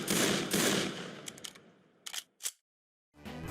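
Desert Eagle pistol shots in the video game Left 4 Dead 2: a few loud, booming reports up front, then sparser sharp cracks with short gaps, falling to silence before low background noise returns.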